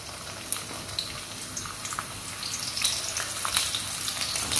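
Finely chopped medium onion sautéing in oil for a restaurant-style tomato chicken, a continuous close sizzle with small pops and crackles scattered throughout, growing a bit louder near the end.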